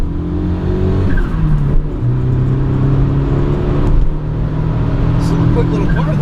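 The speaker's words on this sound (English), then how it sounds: "So you will see the boost cut here when I floor it." A 1987 Mitsubishi Lancer 1800 EX GSR Intercooler Turbo pulls hard under full throttle, its engine droning loudly and stuttering against the boost cut, heard from inside the car with road noise.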